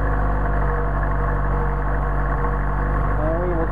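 A Mercedes 190SL engine with Solex carburetors idles on choke, a steady close low rumble with constant hum and vibration, while a person talks over it.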